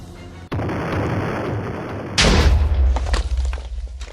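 House blown up in Roblox Brookhaven: a steady roaring rumble gives way to a loud booming blast with deep rolling low-end that gradually thins out, with no talking over it.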